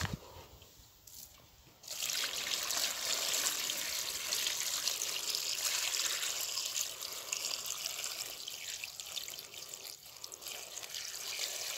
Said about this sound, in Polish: Zalewamy wodą.